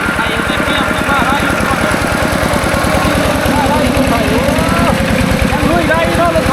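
Walking tractor engine chugging steadily and loudly up close with a rapid, even putter as it pushes through floodwater on a flooded farm track, voices talking over it.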